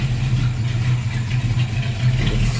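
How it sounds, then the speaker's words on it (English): Buick Regal idling with single-chamber mufflers, a steady low exhaust rumble that holds an even, slightly lumpy pulse throughout, close by with no talking. "So here I'll kind of show you what the exhaust sounds like."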